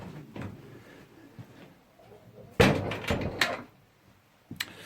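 A wooden door in a pigeon loft, leading from the weaning section into the next section, opens with a loud knock and creak near the middle of the clip, followed by rattling and a short thud at the end.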